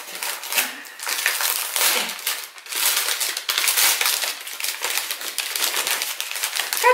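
Gift wrapping paper crinkles and rustles as a Christmas present is unwrapped, close and fairly loud, in irregular crackling bursts that run continuously with brief pauses.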